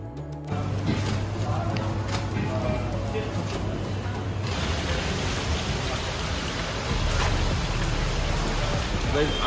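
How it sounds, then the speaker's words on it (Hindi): Heavy monsoon rain pouring steadily over a flooded street in Lucknow, a dense continuous hiss close by that holds its loudness throughout, with no voices over it. "नहीं मानती ये रुकने वाली बारिश नहीं है।"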